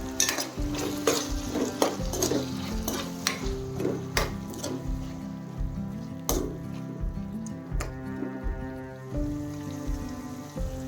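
Tomatoes with salt are stirred and fried in a pan, with a spoon scraping and clacking in an irregular rhythm over a continuous close sizzle.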